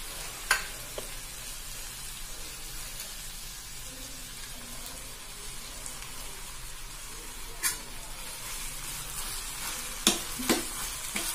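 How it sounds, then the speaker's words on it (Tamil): Onion, green chili, mint and coriander sauté in a pan for chutney, giving a low steady sizzle with a few sharp clinks of a spoon against the pan, quiet and without talk. "இதை வதக்கிட்டு காமிக்கிறேன்."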